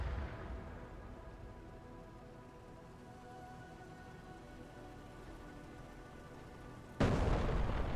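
A vehicle in the DCS combat flight simulator erupts in a sudden loud, broadband explosion near the end, breaking out of a steady low rumble of battle ambience.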